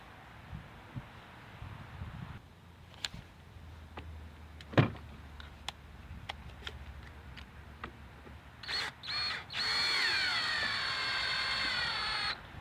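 A power drill with a 7/32 bit bores out a broken lawn mower muffler bolt. Faint clicks and knocks come first, then a loud, close, continuous high drill whine with brief starts and stops near the end.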